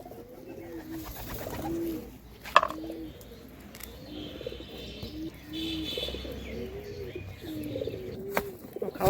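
Domestic pigeons, including a black one, coo repeatedly in a loft at close range, with soft chirps and faint background noise between the low rolling calls.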